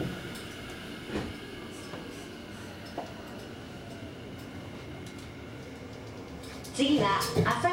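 A Tobu Tojo Line 50090 series local train bound for Shiki runs steadily along the track, with a continuous low rumble, occasional wheel clicks and a louder rattling surge near the end.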